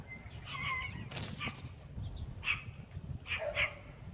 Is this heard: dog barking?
yes